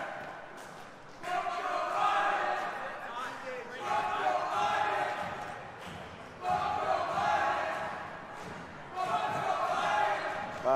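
Crowd noise at a jiu-jitsu final swells into loud cheering and murmuring in several waves, while a commentator's voice runs underneath.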